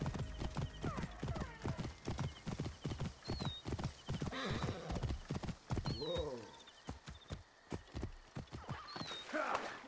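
A horse in Assassin's Creed Origins gallops with a fast, rhythmic clip-clop of hooves, punctuated by occasional short whinnies, loud and close over a game soundtrack.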